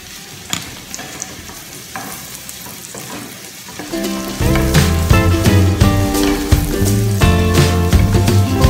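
Mushrooms hit a pan of frying onions, setting off a loud, steady sizzle and crackle with stirring, rising sharply midway as they go in, with no talking.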